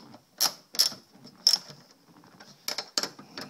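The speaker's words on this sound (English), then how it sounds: "we will go ahead and snug those nuts in." A hand ratchet snugs nuts during a flip window install, giving several short, sharp clicking bursts spaced unevenly, close and fairly loud against a quiet background.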